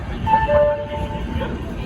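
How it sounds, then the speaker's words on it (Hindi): The Saket superfast express train, running Ayodhya Cantt to LTT, arriving at platform 7 of a station with a loud low rumble and brief horn tones, while people talk over it. "फाइनली साकेत एक्सप्रेस को सिग्नल दिया जा चुका है। प्लेटफॉर्म क्रमांक 7 पर आ रही है।"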